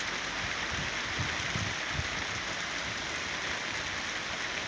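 Steady, dense rain hissing throughout, a constant wash of drops with some low rumbling patter underneath and no voices.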